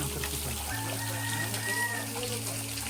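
A rooster crows with a drawn-out call among chickens kept inside a cave in a tribal village, heard over a low steady hum with faint clucking.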